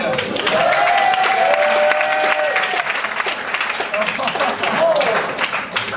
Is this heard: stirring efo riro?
no